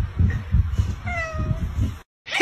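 A cat gives a single short, rising meow, close by, over a steady low rumbling background.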